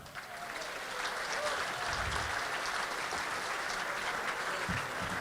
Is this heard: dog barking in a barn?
no